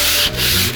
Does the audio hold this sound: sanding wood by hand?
yes